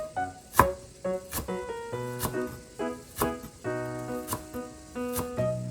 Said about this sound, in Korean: 물이 끓는 동안 대파를 송송 썰어주세요.